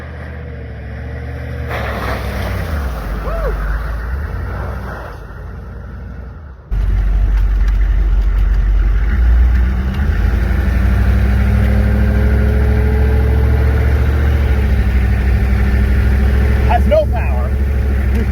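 A military Humvee's engine runs steadily at close range while driving after sitting abandoned for 13 years, a deep low drone that jumps louder partway through and holds under someone talking throughout.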